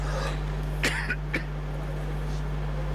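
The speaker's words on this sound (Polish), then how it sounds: "Nagły atak kaszlu, przepraszam." A few sharp coughs in a sudden fit from a presenter during a Polish news-talk broadcast, close to the mic over a steady electrical hum, with no talk in between.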